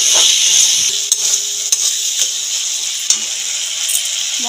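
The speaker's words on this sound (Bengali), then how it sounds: "টমেটোটা দিয়ে এবার ভালো করে কষতে থাকবো।" Chopped tomatoes sizzle and fry in a pan of spice masala for a Bengali dal with egg, a steady loud hiss with a few sharp stirring clicks of a spatula against the pan throughout.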